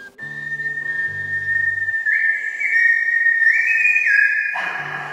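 A man whistles a clear melodic line straight into a microphone, sustained notes that glide and shift in pitch, loud and close, with a faint low tone beneath at the start.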